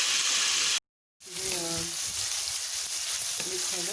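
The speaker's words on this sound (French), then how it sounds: "On va faire dorer les crevettes." Shrimp fry in a hot pan with a loud, steady sizzle that briefly cuts out, then returns as a voice speaks over it.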